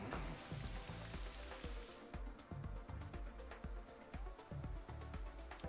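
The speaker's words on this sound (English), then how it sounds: "so you're going to set up Rain Dance" Steady rain-like hiss from the Rain Dance move in Pokémon Scarlet/Violet washes over the battle for about two seconds, then fades while rhythmic game music with a thumping bass line keeps playing.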